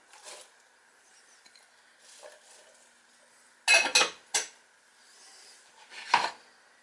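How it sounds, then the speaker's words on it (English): Chopped onions tipped into a crock pot for beef stew, heard as a few short clattering thuds and scrapes against the pot, with quiet gaps between them, close by. "Onions going in."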